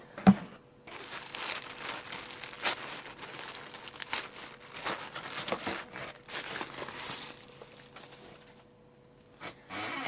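Crinkly crumpling and tearing of paper and plastic packaging as a beauty subscription box sealed with a small heart sticker is opened, close and fairly quiet, with irregular bursts of rustling throughout.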